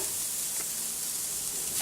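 Steady, close sizzling of bacon frying on a hot grill, a continuous crackling hiss with no voices.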